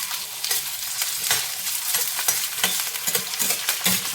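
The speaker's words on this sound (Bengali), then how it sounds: "আলুটা একটু ভেজে নেব।" Potatoes fry in hot oil in a wok, a bright continuous sizzle broken by repeated scraping stirs of a spatula, close and steady with no talking.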